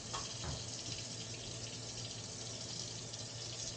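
Tap water runs steadily over raw chicken thighs in a kitchen sink, a continuous close hiss and splash that holds from start to finish with no pauses and no voices.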